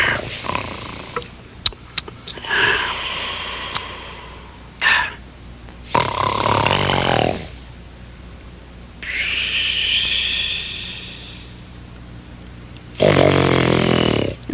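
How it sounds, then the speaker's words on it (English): A Sesame Street puppet character snores in a series of loud, drawn-out rumbling breaths and whistling exhales, repeating in slow cycles with short pauses between them. "you're snoring"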